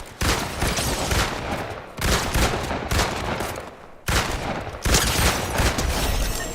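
Rapid automatic gunfire in the video game Fortnite rattles in loud sustained bursts, four long volleys separated by brief pauses, with no talking over it.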